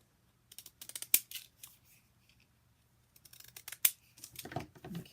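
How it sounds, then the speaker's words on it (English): Scissors snip through paper in two brisk bursts of short, crisp cuts separated by a pause, close and clear in a quiet room while paper stamps and tabs are being cut out for a craft. "I'm going to cut this out."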